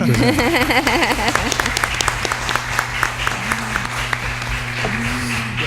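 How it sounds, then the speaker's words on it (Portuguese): An audience at a university panel discussion applauds loudly and steadily, a dense wash of clapping with a sustained tone and brief vocal sounds mixed in at the start. "Vamos bater palmas, vocês podem bater."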